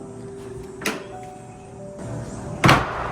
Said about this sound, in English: I allow the children to slam the swing door.